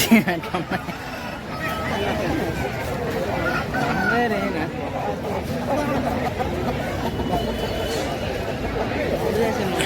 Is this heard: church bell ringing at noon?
no